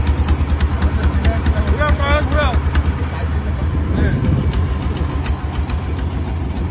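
A fishing trawler's engine idles with a steady, throbbing hum at sea off Kuakata. A few voices call out over the continuous motor drone.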